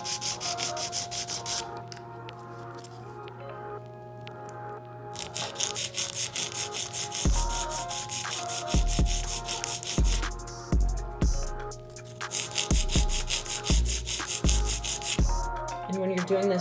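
A nail file rasps back and forth against an acrylic nail in a steady run of short strokes, close and clear, with a faint background hum and no speech.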